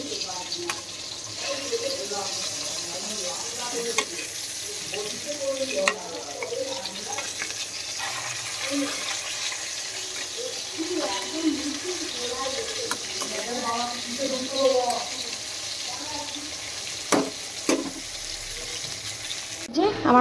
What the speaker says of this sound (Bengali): এখন মাছ ভাজছি।